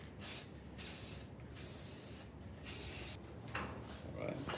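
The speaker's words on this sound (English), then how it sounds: "Right now I'm gonna give it a quick paint." A spray can hisses paint onto parts for a BMW K100 cafe racer motorcycle in four close bursts of varying length, with quieter handling noise in the gaps and toward the end.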